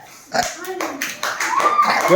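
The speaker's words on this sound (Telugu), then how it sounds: "క్లాప్." Schoolchildren in a primary school classroom clap their hands together in a few sharp bursts, loud and close, with voices and chatter mixed in around the claps.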